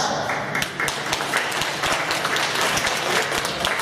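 An audience applauds winners at an award ceremony for the youngest amateur arts performers at a village cultural centre, with steady, dense hand clapping filling the hall from start to finish.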